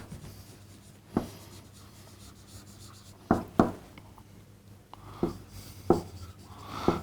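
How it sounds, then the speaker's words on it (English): Chalk or marker strokes on a board during a mathematics lecture, a few short taps and scrapes spaced irregularly over steady room hum, fairly close and moderately loud. "we write"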